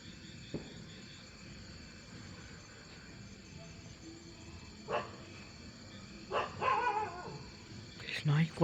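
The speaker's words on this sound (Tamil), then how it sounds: "நாய் குலைக்குது." A dog barks several times at a distance, short faint bursts that grow more frequent toward the end, over a quiet outdoor background with insects and a low hum.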